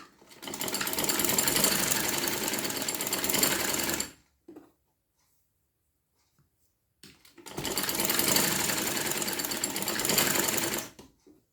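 A sewing machine stitching a sleeve cuff runs in two loud sustained bursts of about four seconds each, separated by a few seconds of near silence.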